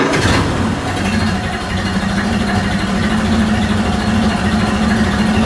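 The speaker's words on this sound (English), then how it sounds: "She's all idling up real pretty." A Ford Model A engine idling out of gear, a steady, even low rumble heard close up and fairly loud for several seconds with no talking.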